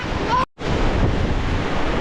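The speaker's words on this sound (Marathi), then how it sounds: "पण वारा आणि पाऊस एवढा आहे ना की तुम्हाला काय सांगू" Strong wind buffets the microphone on a hill during monsoon rain, a loud continuous roar broken by a brief gap of silence and then resuming unchanged.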